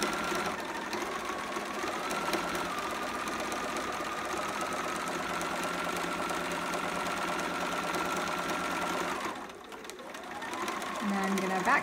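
A sewing machine runs a straight stitch on a romper, a steady close whirring hum lasting nearly the whole stretch with one brief pause near the end, while someone talks over it.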